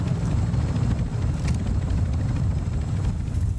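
Helicopter in the video game Warzone 2.0 DMZ, a continuous low rotor drone holding steady at a fairly close, loud level with no talking over it.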